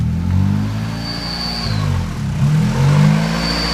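A Honda Civic EX with a D16Y8 engine runs with a fault, a steady close engine drone with a faint whine and slight surges in pitch, continuous throughout with no talking.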